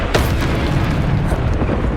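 A Depulso force spell is cast in Hogwarts Legacy on PS5, giving a loud, sudden whoomp. A deep, rumbling blast rolls on for about two seconds.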